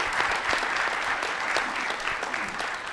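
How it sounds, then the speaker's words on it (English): An audience at a panel Q&A event applauds Dr. Ron Wright with a steady burst of many hands clapping, fairly loud and continuous for a few seconds with no talk over it. "let's give Ron a round of applause"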